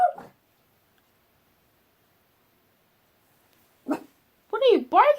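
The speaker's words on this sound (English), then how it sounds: "What are you barking at" A dog gives a couple of short, isolated barks separated by silence, then a brief run of whiny, yelping vocal sounds close by.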